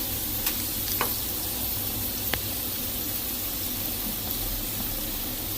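Steady gentle sizzling of garlic frying on very low heat in a pan, continuous and close, with a few faint clinks, no voices.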